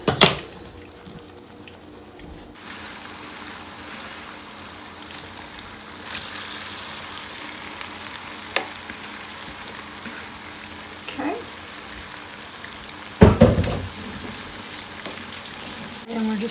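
Battered green tomatoes coated in self-rising flour frying in oil in a skillet, a steady crackling sizzle with sharper pops and spits, moderately close and continuous.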